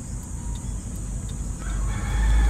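Laying hens at a small layer farm cluck and squawk in short, scattered bursts close by, with a steady low rumble underneath that swells louder toward the end.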